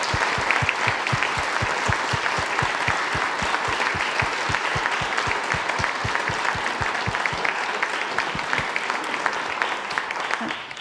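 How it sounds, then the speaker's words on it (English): Congregation at an Anglican church applauds a choir after a Palm Sunday performance of Stainer's The Crucifixion: sustained, even clapping from many hands, with a steady rhythmic clap cutting through, continuing loudly for about ten seconds. "Let's give them a round of applause."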